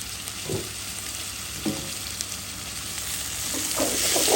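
Crushed garlic, onion, tomato and green chili frying in oil with salt make a steady sizzle, with a few soft stirring scrapes and a hiss that grows louder toward the end.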